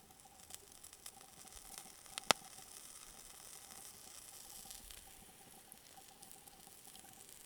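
A sausage on a stick sizzles over a winter campfire, a faint steady hiss with soft crackles and one sharp pop partway through, no voices.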